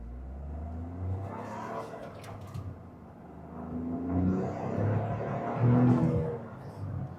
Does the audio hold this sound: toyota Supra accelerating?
yes